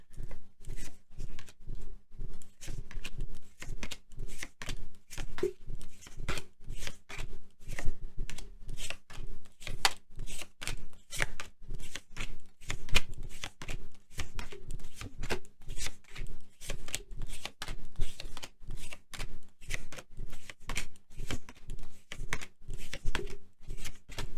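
Tarot cards being shuffled, a long run of quick, crisp riffling and flicking bursts repeating steadily at close range, fairly quiet, with no talking.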